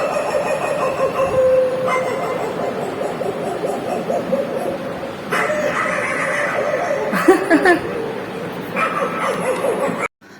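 A person imitates a dog with a run of barks, yips and whimpering sounds, close and loud, with brief laughter and other noises mixed in.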